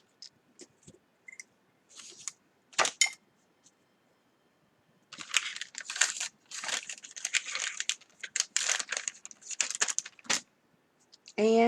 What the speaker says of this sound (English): And just cut it off the spool,